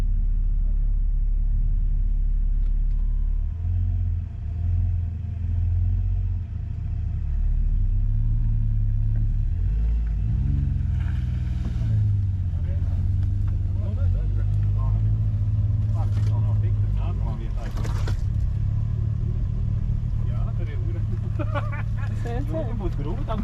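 A Volvo C70 drives along a forest track, its low engine rumble steady throughout, with people talking over it inside the car.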